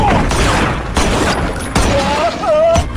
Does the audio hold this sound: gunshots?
yes